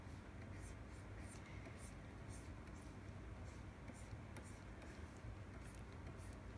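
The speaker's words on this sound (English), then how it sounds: "I think I'm not drawing this circle enough though." A pencil draws a circle on paper, giving a soft, steady scratching with rhythmic repeated strokes, close and quiet.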